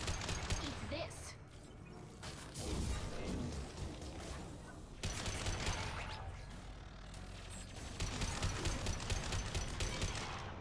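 Turret gunfire in the video game Mass Effect 2, dense bursts of rapid shots and crashing impacts filling the scene, swelling louder in several waves over a steady low rumble, with a voice talking at times.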